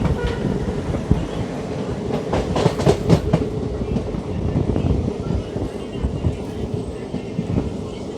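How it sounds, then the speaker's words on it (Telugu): A train rolls and clatters near Ernakulam junction in Kerala during shunting, with loud, close clickety-clack of wagon wheels over rail joints and a steady rumble throughout. "ఏదో ట్రైన్ షంటింగ్కి రెడీ అవుతుంది ఎర్నాకుళం నుంచి."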